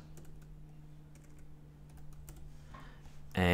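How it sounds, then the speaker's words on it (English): Typing on a computer keyboard while entering a name into an online payment form: sparse, light, close key clicks over a faint steady hum, ending in a sudden loud burst of noise. "I'm going to type my name and things like that"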